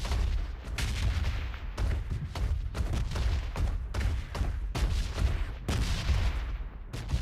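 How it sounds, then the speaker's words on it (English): Bombs exploding in the red zone of PUBG Mobile, a dense stream of heavy booms and blasts that keeps going with little pause, loud and close throughout, no voices. "I'm gonna try to get hit by the bombs."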